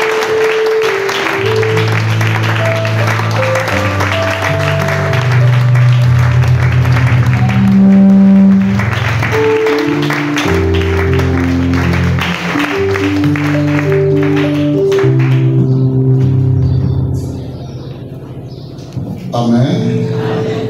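A church congregation applauds to welcome an evangelical pastor, steady clapping blended with loud music playing throughout, fading out near the end.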